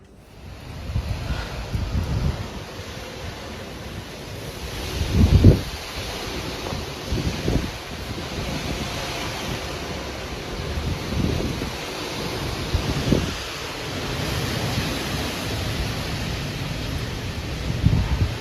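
Strong wind buffets the microphone over hurricane floodwater standing in a backyard, with low, rolling surges from small waves and a few heavier gusts and splashes rising out of a constant roar.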